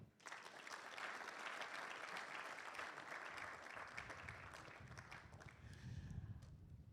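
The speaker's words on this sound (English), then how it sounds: "Let's welcome him with a round of applause, please." Sustained audience applause at a Ghana Statistical Service report launch, steady clapping from a crowd welcoming the chairperson, loud and continuous throughout with no talk over it.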